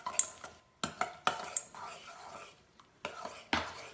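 Clattering spoon-and-pan scrapes and taps come in several separate bursts as seafood and onions are stirred together in a pan, fairly soft and close, with short pauses between strokes.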